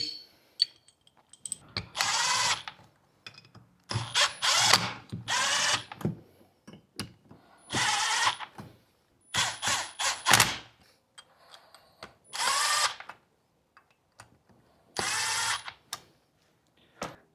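A power drill drives short bolts into an engine distributor on a modern LS engine, firing in repeated short bursts of whirring spin with brief pauses and light metallic handling between them.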